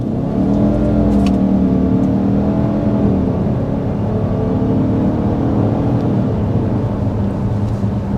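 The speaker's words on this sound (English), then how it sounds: "you do have some simulated gear changes, but they don't, shift it in exactly the conventional way" A 2024 Subaru Ascent SUV with a CVT accelerating steadily, its engine drone rising and settling in stepped pulses like simulated gear changes, loud and continuous throughout with no talk.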